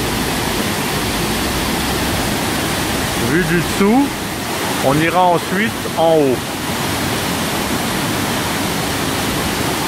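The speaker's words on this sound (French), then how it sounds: "Alors voilà la cascade." The Baume-les-Messieurs waterfall in France's Jura pours in heavy flow, a steady, loud roar of rushing water filling the scene while someone speaks briefly over it.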